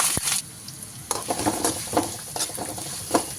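Curry leaves and onions dropped into hot oil crackle and sizzle close by, with sharp spits and pops scattered over a low frying hiss.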